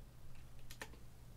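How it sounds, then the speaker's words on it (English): Keystrokes on an Obins Anne Pro 2 Bluetooth 60% RGB mechanical keyboard: a few quick, light clicks near the mic over a steady low hum, with no talking. "I would type the address in with this"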